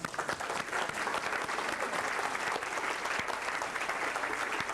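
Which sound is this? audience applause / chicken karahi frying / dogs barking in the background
audience applause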